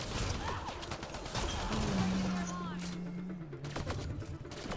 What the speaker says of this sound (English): Please stop shooting at me.